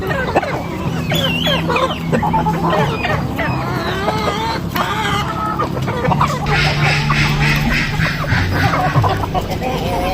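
A dense flock of Chinese chickens clucking and cackling continuously and loudly up close, with overlapping calls and a rooster-like crow mixed in.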